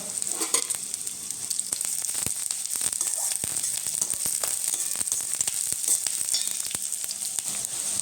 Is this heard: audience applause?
no